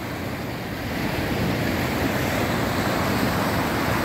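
Powerful rushing floodwater from the mountains in Alanya, Turkey, roars steadily and loudly, with a broad wash of noise growing slightly stronger after the first second.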